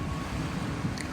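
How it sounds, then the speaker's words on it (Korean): Waves wash close onto a small island beach, a steady broadband rush of surf with wind buffeting the microphone, no voices over it. "근데 지금 파도 소리가 되게 가깝게 들려요."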